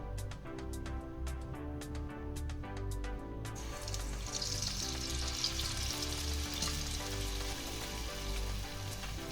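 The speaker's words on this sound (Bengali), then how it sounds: "এবার আমি এক এক করে মালপোয়াগুলো ভেজে নেব।" Malpoa pancakes fry in refined oil in a wok, a soft crackling sizzle that swells after a few seconds, heard under steady background music.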